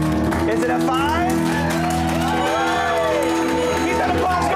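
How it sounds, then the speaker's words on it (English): A comedy show audience applauding and cheering, a dense, sustained wash of clapping and whoops under a host's raised voice. "Keep that applause going for the Curious Comedy"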